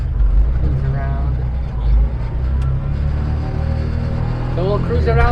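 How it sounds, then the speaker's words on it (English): Loud, steady drone of a Bajaj Maxima C three-wheeler's engine heard from inside the cabin, a constant low rumble filling the space while someone talks over it. "If you can hear me over the sound of the engine, great, because it's really loud in here."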